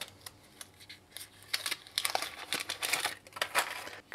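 A paper wrap crinkles around a Google 30W USB-C charger as it is handled, with close, irregular rustling and crackling bursts that grow busier toward the end.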